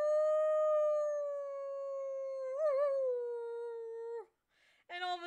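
A human voice imitates a wolf's howl with one long, steady, sustained tone that wavers briefly in the middle and then drops off, followed by a short rising yip, close and alone.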